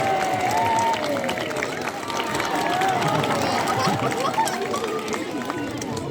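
A sea lion show crowd at West Midlands Safari Park cheers and claps for Callum the sea lion, a dense, steady roar of hands and voices that stays loud and close throughout, with chatter woven in.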